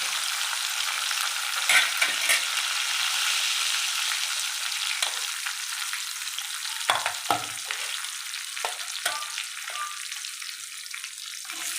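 Turmeric and red chili powder sizzle in hot oil with curry leaves and green chili in a pan for a dry potato dish, a continuous close frying hiss broken by occasional stirring scrapes.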